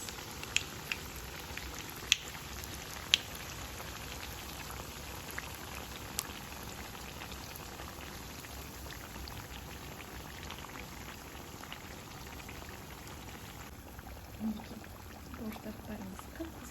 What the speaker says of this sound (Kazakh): Аударып, бауырсақтарымызды пісіреміз.